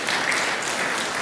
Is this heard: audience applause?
yes